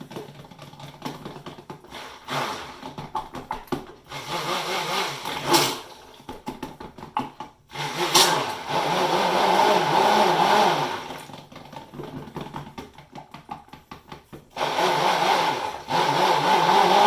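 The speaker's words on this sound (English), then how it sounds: "we're going to actually stick blend this a little bit more" A stick blender whirs in cold process soap batter, running in repeated bursts of varying length, loud and close, its motor whine rising and cutting out between pulses with short pauses.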